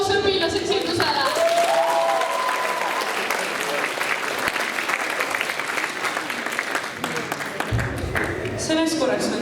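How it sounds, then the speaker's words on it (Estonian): Applause for the student council at a school Christmas party, a full hall clapping loudly and steadily for several seconds, with a few voices calling out over the crowd. "Aplaus õpilase esindusele!"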